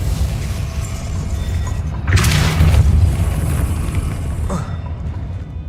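The Depulso spell goes off in the video game Hogwarts Legacy, a loud, whooshing boom burst that lasts about a second over a steady low rumble of game ambience.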